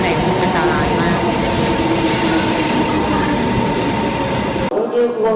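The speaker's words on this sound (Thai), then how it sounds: "ก็กำลังจะมาถึงแล้วนะคะรถไฟชินคันเซ็นมาแล้วค่ะ" A Shinkansen bullet train pulls into a station platform with a loud, sustained roar and rushing rail noise, then cuts to sudden quiet near the end.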